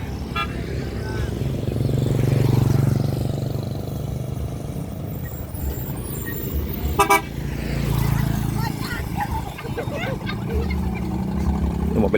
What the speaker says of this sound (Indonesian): Oke, friend, mobilnya masuk ya, friend ya.